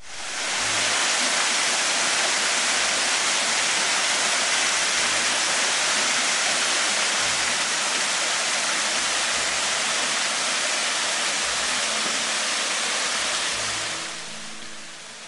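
Loud, steady rushing of falling water fills the whole clip, a dense continuous roar that eases off slightly at the very end.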